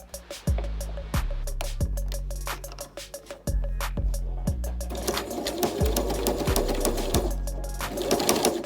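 A sewing machine stitches through a plastic face shield in short rhythmic bursts of rapid clattering, pausing briefly between runs before settling into a longer, steadier stitching passage, loud and close.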